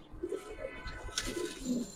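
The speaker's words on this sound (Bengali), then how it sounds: "এটা একটা মাদি কবুতর" A female Giribaz pigeon coos softly in a few low, rounded murmurs, faint and close, against quiet background noise.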